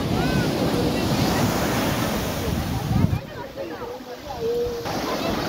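Sea surf washes up the sand at Puri beach at sunset, a continuous rushing swash over bare feet mixed with gusty wind rumble on the microphone.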